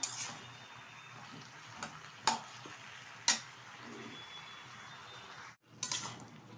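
Spinach curry cooking in a pan with a gentle continuous sizzle, a few sharp clicks and knocks from the stirring utensil rising above it.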